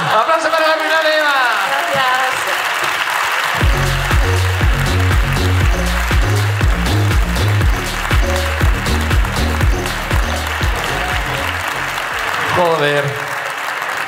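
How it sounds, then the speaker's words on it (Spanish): A podcast audience's loud applause mixes with talk and laughter, while a heavy rhythmic musical beat thumps beneath the cheering through the middle stretch. "¡Aplauso para la final, Eva!"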